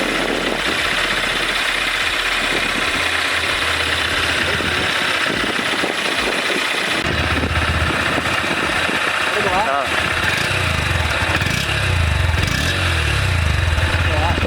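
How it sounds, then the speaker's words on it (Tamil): A Honda Hornet 2.0 BS6 motorcycle engine idles with a steady close mechanical thrum, then is blipped into louder exhaust revs in the second half. "நெக்ஸ்ட் இந்த பைக்கோட இன்ஜின் அண்ட் எக்ஸாஸ்ட் சவுண்ட் பார்க்கலாம்."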